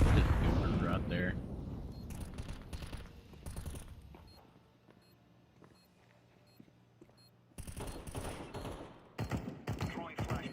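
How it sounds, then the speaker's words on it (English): A thrown grenade detonating in the video game CS2, a loud blast followed by a decaying rumble, with more gunfire and explosions later amid busy game sounds. "Throwing a grenade."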